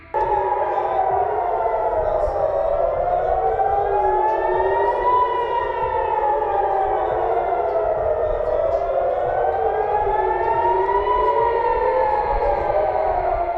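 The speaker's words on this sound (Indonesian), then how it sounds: "Tampak rudal melesat di langit malam Israel saat sirene udara berbunyi." An air raid siren in Israel wails loudly during a missile attack, its pitch rising and falling in long, slow cycles, continuous and alone.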